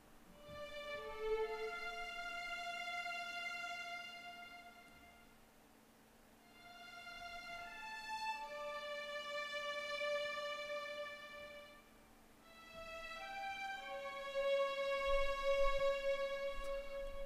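An 8Dio Adagio Strings violin section plays a longer arc articulation. Sustained bowed notes swell up and fade away in three slow arcs, rich in harmonics, with no voices.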